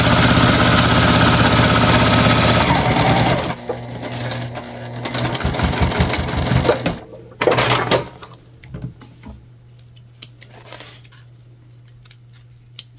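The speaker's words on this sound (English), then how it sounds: "we're going to just stitch across the top here so that everything stays together" A sewing machine stitches across the top of a tote bag with a basting stitch, a loud steady hum for a few seconds, then short stop-start bursts, clicks and handling noises while a low hum continues.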